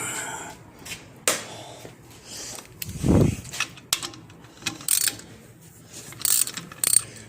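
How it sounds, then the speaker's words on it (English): A ratchet loosens a brake caliper bolt on a 2017 Dodge 2500 heavy-duty Cummins turbo diesel, giving quiet, close clicking pawl sounds in short irregular bursts with small metallic knocks between. "Now with this new caliper, loosen this bolt here."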